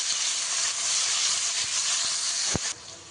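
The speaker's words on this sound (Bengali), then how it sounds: "এবার একটু নাড়াচাড়া করে নিই পেঁয়াজটা দিয়ে।" Onions sizzling in a pan while being stirred, a loud continuous hiss with a few faint utensil taps and one sharp knock near the end.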